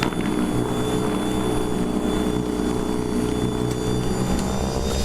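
EGO Power+ SNT2102 electric snow blower running steadily up close, a continuous motor whine with a constant broadband rush of churning snow, loud and unbroken with no talking.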